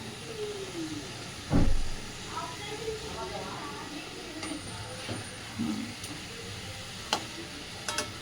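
Fish curry (pulusu) stirred slowly and lightly in a pot, with soft scraping and a hissing, steamy simmer, one dull knock early on and faint voices in the background.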